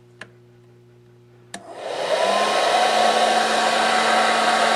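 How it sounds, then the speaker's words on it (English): A handheld hair dryer clicks on after a couple of brief knocks and then runs steadily on its high setting, a loud continuous broadband blowing roar with a faint tonal hum beneath, no voices. "I'm going to run this hairdryer on high for 1 hour and 10 minutes"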